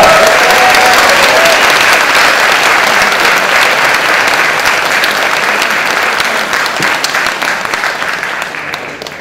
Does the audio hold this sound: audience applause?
yes